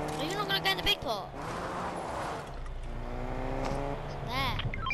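A vehicle driving in Fortnite, its engine drone steady with shifting pitch, mixed with other game sounds and people talking over it.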